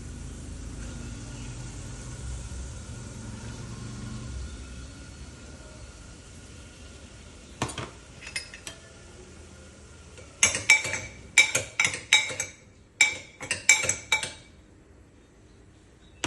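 Chopped bottle gourd tipped into a metal cooking pot, with a run of sharp clattering clinks from a spoon against the pot after a quiet stretch, close and fairly loud.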